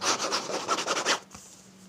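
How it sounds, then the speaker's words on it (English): A rough, rhythmic scratching or rubbing sound at a front door, fairly close, lasting about a second before fading into quiet. "she heard a scratchy sort of noise at the front door"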